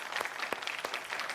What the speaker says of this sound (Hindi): जोरदार तालियां तमाम मेहमानों के लिए।